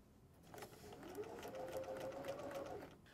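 A sewing machine stitches a quilt block in a quiet room, its motor whirring steadily for a few seconds with a faint whine and soft needle rhythm.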